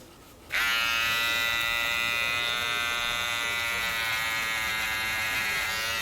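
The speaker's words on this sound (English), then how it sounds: "The first thing I will do is shave that bit of his tummy." Electric shaver buzzing steadily as it trims fur on a teddy bear's tummy, starting abruptly after a quiet moment and running loud and close with a strong, even harmonic whine.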